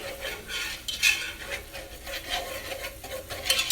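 A whisk stirs shrimp alfredo sauce in a pan, making quick scraping and swishing strokes against the metal in an uneven rhythm, close and moderately soft.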